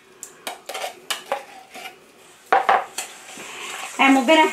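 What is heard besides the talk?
mixing canned pumpkin into batter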